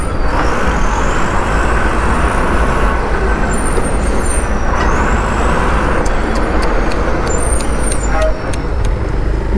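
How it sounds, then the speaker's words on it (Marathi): Dense road traffic rumbles along a road under repair near Ernakulam. A loud, continuous roar of trucks and buses mixes with passing engine whines and faint high tones, heard close and without pause. "रोडची कामं चालू आहेत, त्यामुळे एवढा ट्रॅफिक आहे ना."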